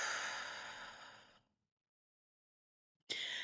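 A deep exhale during a breathing exercise: one long, close, breathy outflow fades to silence, then a sharp new breath begins.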